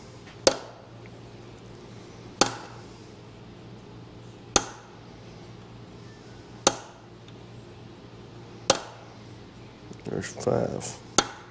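Five sharp, evenly spaced hammer blows ring out about two seconds apart as numbers are stamped into Chevy 350 small-block engine parts, close and loud, followed by a brief spoken remark.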